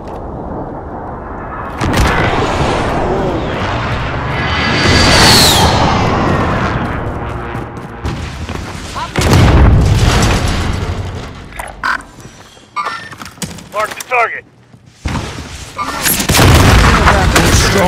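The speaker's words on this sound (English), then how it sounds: "Be advised, friendly precision airstrike inbound." Heavy booms and blasts from a precision airstrike in Call of Duty: Modern Warfare, loud bursts arriving in waves with mechanical clatter and gunfire between them, with a voice briefly heard in the mix.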